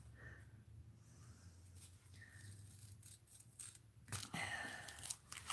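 Old scissors snipping through paper, a few crisp cuts building to louder shearing near the end, close up with no talk.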